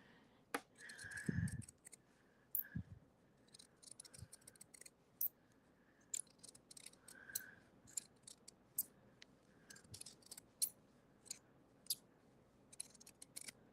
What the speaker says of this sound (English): It sounds like my scissors need a little bit of lubrication.